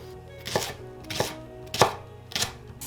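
A knife slicing vegetables thinly on a cutting board, four evenly spaced crisp chops about half a second apart, close and clear with no talking.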